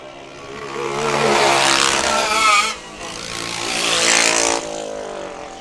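High-horsepower racing karts on a kart track at the Tucson Kart Speedway Grand Nationals, engines rising and falling in two loud, buzzing passes through the turns with brief drops between them.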